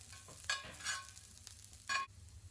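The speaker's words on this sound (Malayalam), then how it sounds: "ഞാൻ ജസ്റ്റ് ഓയിൽ ഒഴിച്ചിട്ട് അതിലിത് നമ്മുടെ ഗാർലിക്കും സ്പ്രിംഗ് ഓണിയനും കൂടി ഇട്ടിട്ട് ഒന്ന് വഴറ്റിയെടുക്കുകയാണ് കേട്ടോ" Garlic and spring onion sautéing in oil, a soft low sizzle broken by a few bright scraping stirs of a spatula, quiet and close, no one talking.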